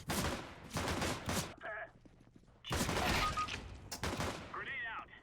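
Bursts of gunfire from the video game CS:GO, a couple of loud volleys separated by a short gap, heard under excited talking between the shots.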